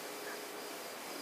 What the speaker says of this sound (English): That's the noise of crickets,